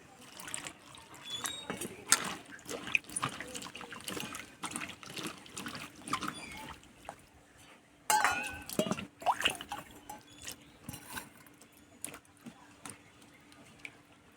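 Bitter gourd and potatoes being rinsed by hand in water, with splashing, dripping and clattering handling sounds in irregular bursts, fairly quiet and close, with a brief louder patch of sloshing midway.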